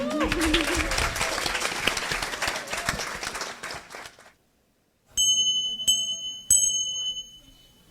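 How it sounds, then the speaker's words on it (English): A room of people claps for a panel moderator at the close of a special-edition event, dense applause for about four seconds, then a pause and a few sharp bell-like dings. "a round of applause for our incredibly skillful and mindful moderator"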